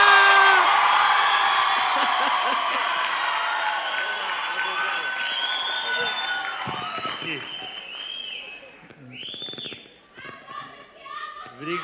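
Audience applause and cheering for a Brazilian stand-up comedian, loud at first and slowly fading over several seconds, with whoops on top. Then it thins out as the comedian begins talking over the last scattered claps.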